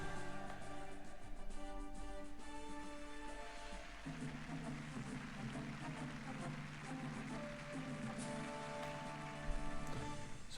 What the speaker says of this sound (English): that is rain and other weather effects in the game or in the mod